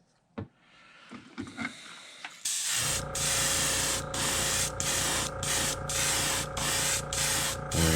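An airbrush sprays a red coat onto a crawfish crankbait lure, a loud steady hiss that starts after a few soft handling clicks and taps, then runs continuously with brief regular dips as the spray pulses.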